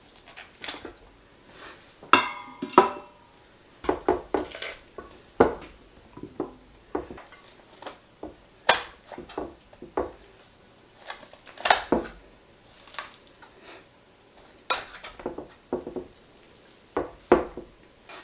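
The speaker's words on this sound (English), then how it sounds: "So I've got boning shears. I'm going to go ahead and cut this up so that it can fit in here." Boning shears snip and crunch through a roasted turkey carcass, giving a string of sharp clicks, cracks and clattering knocks in an irregular rhythm, close and fairly loud, with no talking.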